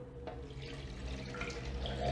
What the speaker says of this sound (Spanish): Añadiremos 300 mililitros de agua.